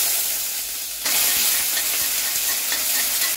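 Raw onions and a green chilli hit hot oil with a loud, bright sizzle that keeps crackling steadily, with a few soft scrapes of stirring and no talking.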